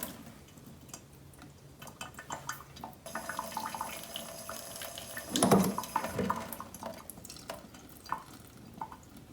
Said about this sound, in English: the soil's all soaked and it's dripping out through the drainage hole